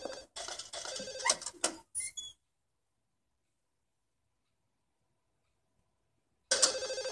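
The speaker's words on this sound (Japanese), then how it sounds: "どこで鳴ってんだ電話。" An old-style telephone bell rings in rapid, loud bursts inside the Silent Hill 4: The Room horror video game, breaks off into a long stretch of total silence, then starts ringing again.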